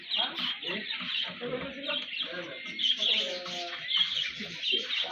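Silkie chickens cluck and chirp continuously close by, with overlapping bird calls and a steady busy chatter throughout.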